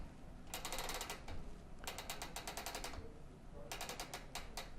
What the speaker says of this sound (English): I need to unlatch the little clicker here and hold this a little bit of pressure and turn the top one